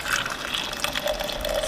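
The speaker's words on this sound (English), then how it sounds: "Ceremonial pouring of the coffee." Coffee poured from a pot into a cup, a steady liquid stream trickling and splashing for under two seconds, close and moderately loud with no talking.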